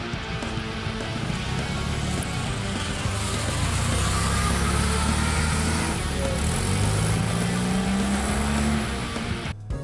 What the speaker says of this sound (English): It had a rear engine that roared, almost as if it was coughing.